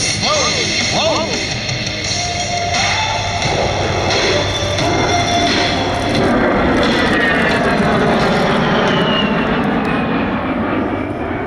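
An A-10 Warthog jet performing a slow roll at the Sun n Fun 2022 air show, its loud engine roar sweeping past with shifting pitch, constant and powerful throughout, with an announcer talking over it.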